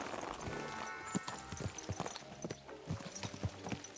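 Horse hooves clip-clopping in the medieval game Kingdom Come: Deliverance 2, a steady run of hoof strikes close by over a busy ambient game background, with no talking.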